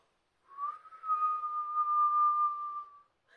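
A single sustained whistled tone imitating the wind, rising briefly at the start and then held steady for about two and a half seconds, close and clear against silence.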